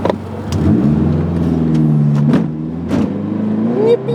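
2017 Subaru BRZ engine accelerating, heard from inside the car as a loud, rising harmonic drone that climbs through the gears with brief dips at each shift.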